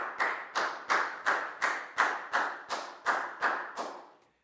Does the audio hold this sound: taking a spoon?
no